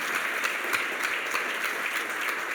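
A church congregation claps in loud, dense applause during a Sunday service. The sound is sustained and fills the whole short stretch without a pause, with no voices above it.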